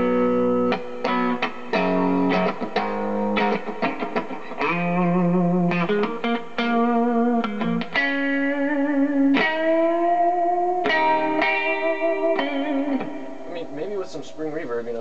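Electric guitar played through a Fender Vibro Champ XD amp with higher gain distortion, a continuous stream of driven chords and single notes with a reverberant tail, with no talking over it.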